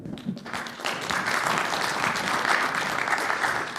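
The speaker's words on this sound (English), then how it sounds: "Round of applause for Dominic." Audience applause at an NFT art show, building quickly from a few claps into steady, dense clapping from a nearby crowd.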